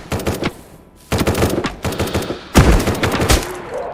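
Automatic gunfire in the survival video game Dreadzone: three loud, close bursts of rapid shots separated by short pauses, the last burst heaviest and booming.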